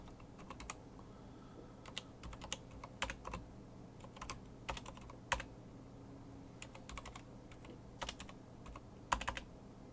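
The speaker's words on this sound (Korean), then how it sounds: "이렇게 엔터를 쳐서 띄워 써도 됩니다" Keys clatter on a computer keyboard in quiet, irregular bursts of clicks, with occasional heavier presses like the Enter key, recorded close against a faint room hum.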